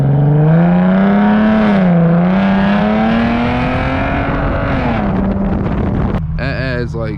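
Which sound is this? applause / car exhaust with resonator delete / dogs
car exhaust with resonator delete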